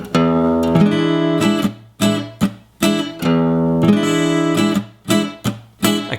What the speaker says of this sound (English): demonstrating that strumming pattern really slow on this Faith FG1 Earth Legacy Series guitar